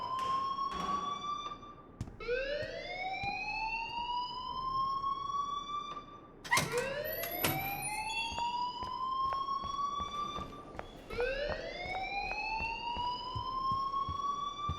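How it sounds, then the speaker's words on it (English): A fire alarm in the Life is Strange video game wails in repeated rising electronic sweeps, loud and continuous, with each whoop climbing in pitch before restarting. "please turn off that alarm since that's your job"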